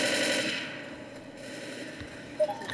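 Gunfire in the Left 4 Dead video game, a dense burst of automatic fire in the first half that thins out, then a couple of sharp shots near the end, with no talk.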